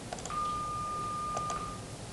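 A single 1209 Hz sine tone played on a computer: one steady, pure beep held for about a second and a half over a faint background hiss, with no talking.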